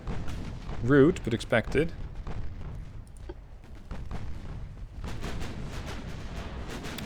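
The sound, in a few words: naval gunfire in Ultimate Admiral Dreadnoughts video game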